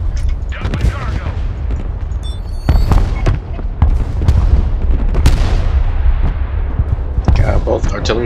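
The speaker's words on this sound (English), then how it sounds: "Both artillery from our allies and enemies." Artillery fire from allied and enemy guns in a real-time war game, heard as a dense, loud barrage of booms and blasts at irregular intervals, with several sharper bursts mixed in and game voice lines over the top.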